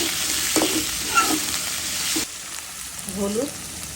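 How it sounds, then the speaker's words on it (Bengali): Eggplant with dried mola fish and salt frying in a pan, a loud bright sizzle that drops suddenly partway, with brief scraping stirs and faint voice-like sounds. "এখন একটু ভেজে নেব।"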